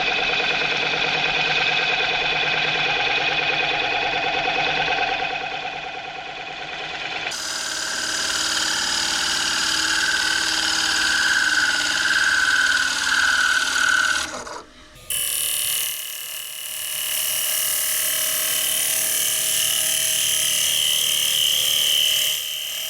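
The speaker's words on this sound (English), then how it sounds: "So now I've switched out to the 1/2-inch bowl gouge, which should have no problems getting to the bottom of this bowl." A wood lathe turning a bowl cut with a 1/2-inch bowl gouge, a continuous close whirring hum with scraping tool noise that shifts in tone partway, briefly dips, then resumes, no talk.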